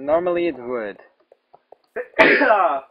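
A sneeze bursts out loudly near the end of a short exchange, preceded by someone talking and a few faint clicks, during casual chatter while playing Minecraft.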